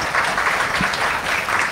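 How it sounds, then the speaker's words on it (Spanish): Short round of applause from an audience at a Women's Day music event, a steady wash of clapping for under two seconds. "Un aplauso también para ella,"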